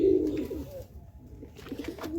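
Pigeons coo in their coop, a soft throaty rolling call nearby, repeated in a couple of short bouts with a quieter gap between them.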